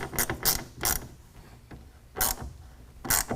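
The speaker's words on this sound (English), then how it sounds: "take a 1/2 inch wrench or ratchet and then tighten it down all the way with that" A ratchet clicks in short bursts while tightening a clamp nut on a tonneau cover rail of a 2019 GMC Sierra 1500, about six quick ratcheting strokes at an uneven pace, close by with no talking.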